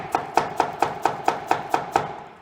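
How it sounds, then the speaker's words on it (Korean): Cabbage being chopped with a kitchen knife on a cutting board: nine crisp, evenly spaced cuts in a steady fast rhythm, close and clear with no talking. "양배추 막 썰 때"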